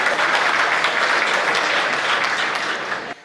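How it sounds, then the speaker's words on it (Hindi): A crowd at a comedy poetry show breaks into steady, full applause that holds evenly throughout and cuts off abruptly at the end. "तो ताली कौन बजाएगा?"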